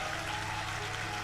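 Audience applause at a Hindi devotional discourse program, a brief, steady wash of clapping heard fairly faintly throughout.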